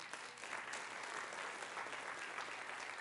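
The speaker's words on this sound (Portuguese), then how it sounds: "Aplauda ao Senhor." A church congregation applauds steadily throughout, a dense and even wash of many hands clapping that sounds somewhat distant and soft.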